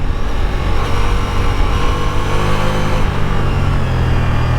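A 2025 Ducati Multistrada V4S motorcycle rides at speed with a steady, loud engine drone and wind rush, holding a constant roar under braking without any voices.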